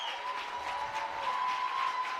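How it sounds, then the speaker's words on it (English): Home crowd at a high school baseball game cheering and applauding steadily, a sustained wash of voices with a faint sustained tone running through it. "And now Valley's crowd is on their feet."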